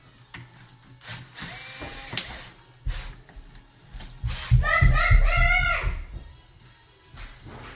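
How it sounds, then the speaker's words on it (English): A power drill tightens a bolt on an electrical switch during a house wiring job, with several short close bursts of whirring and ratcheting, the longest and loudest near the end. "so I don't go at it with the drill"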